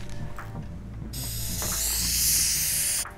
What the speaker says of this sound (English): Spray it over the top part.